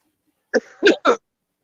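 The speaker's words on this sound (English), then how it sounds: "That cough is wicked." A short, harsh cough in two or three rough bursts, close and alone against silence.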